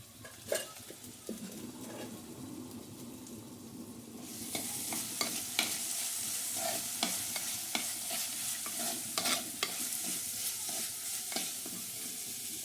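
Green chillies sizzle and fry in a pan while being stirred, a steady crackling hiss with scraping utensil clicks that grows louder and denser partway through, no talking.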